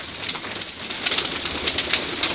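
Racing pigeons cooing inside a loft, several soft overlapping coos close by against a busy rustling background, continuous over a few seconds with no talking.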